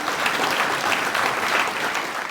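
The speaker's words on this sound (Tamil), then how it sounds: "ஓகே, உற்சாகப்படுத்துறதுக்கு ஒரு கைத்தட்டல்." A studio audience on a Tamil television show claps in an even, sustained burst of applause, loud and close throughout.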